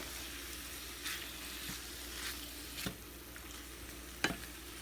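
Pork chop pan contents sizzle and fry steadily in a pan as they cook down, with a continuous crackling hiss and a few louder pops and stirring scrapes, no talking.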